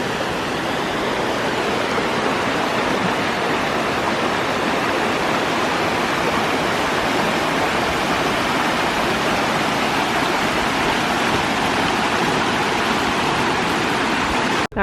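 A waterfall near Mendenhall Glacier in Juneau, Alaska roars steadily and loudly, an unbroken rush of falling water with no voices over it.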